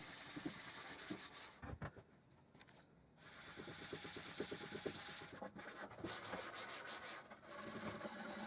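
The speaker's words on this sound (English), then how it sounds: "I buffed it with another cotton cloth to bring out the sheen" Cotton cloth buffs dried wax on a wooden vinyl display unit with quick, brisk rubbing strokes, close and soft, with short pauses between bursts.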